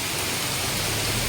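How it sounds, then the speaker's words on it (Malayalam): Heavy rain pours down in a dense, unbroken hiss, loud and close, as if heard from under a shelter, with no voices over it. "പക്ഷെ നല്ല മഴയാണ്"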